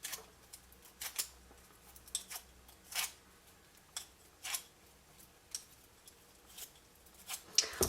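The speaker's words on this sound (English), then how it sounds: "So you just get hold of it and curl it with your bone folder." Paper petals for a Stampin' Up! Delightful Daisy paper bag being curled with a bone folder give off soft, crisp scrapes and rustles in short, irregular bursts, close up and quiet, with no voices.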